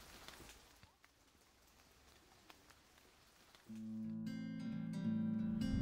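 Steady rain patters on surfaces in a forest in the Jura, a soft continuous hiss of drops, with louder tonal noise entering near the end.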